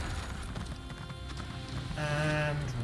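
A horse's hooves sound in Elder Scrolls Online, a brisk clip-clop building into a louder, denser gallop toward the end, with low game ambience and no speech.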